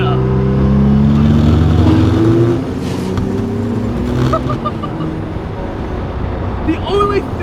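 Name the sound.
500HP twin turbo RB26 engine in Datsun 240Z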